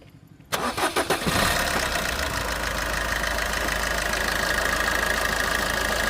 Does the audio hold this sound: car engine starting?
yes